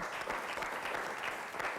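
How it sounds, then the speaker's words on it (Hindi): A studio audience on a Hindi television game show applauds a contestant, a short, steady burst of dense clapping with no talking. "सीके चतुर्वेदी जी के लिए जोरदार तालियां।"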